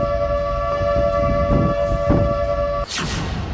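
Civil defense sirens wail during a river flood, a loud, steady multi-tone blare held for nearly three seconds before cutting off abruptly into rushing background noise.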